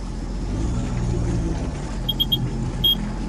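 A steady, low boat engine rumble in sport mode runs throughout at a constant level, with a few short high-pitched beeps near the end.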